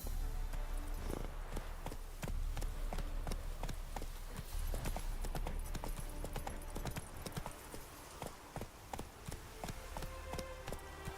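Roach the horse gallops in The Witcher 3, a steady rapid clip-clop of hooves that runs loud and continuous throughout, with dense percussive beats over a low rumble.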